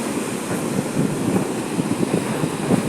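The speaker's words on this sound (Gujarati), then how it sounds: "એટલો પવનનો જોટો લાગે છે" Strong wind at sea during a storm warning, a steady loud rushing roar mixed with surf noise and microphone buffeting, continuous and close with no speech.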